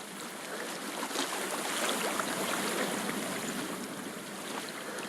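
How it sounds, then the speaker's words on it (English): Flowing stream water in the video game Hellblade: Senua's Sacrifice, a steady close rush and babble that rises gently in the middle and continues evenly without speech. "I hear water."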